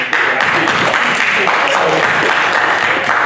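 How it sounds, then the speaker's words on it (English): Audience applause at a Fedora.Next joint conference session: dense, loud, sustained clapping that starts sharply and continues evenly to the end, with faint voices mixed in underneath. "the reason we are clapping is we have a comment from the audience"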